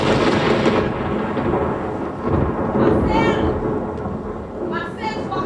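A thunderstorm with rolling thunder rumbling over steady rain, loud and close throughout, with brief higher sounds near the middle and end.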